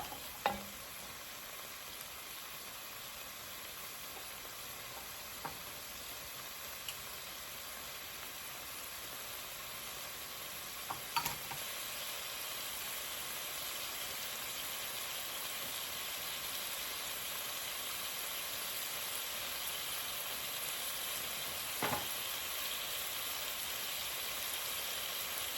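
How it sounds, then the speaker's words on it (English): Vegetables softening in a pan for arroz con pollo, giving a steady, soft sizzle with a few faint clicks of stirring, low and constant with no talk. "Just stir this up and let your vegetables soften."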